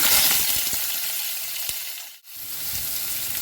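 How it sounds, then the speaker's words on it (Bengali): Mustard seeds crackle and splutter in hot oil for a mango and jaggery chutney, a steady close sizzle with a few sharper pops and a brief drop in the middle, no voices. "এবারে আমি সর্ষে ফোড়ন দিয়ে দিলাম সর্ষেটা একটু ফেটে উঠবে"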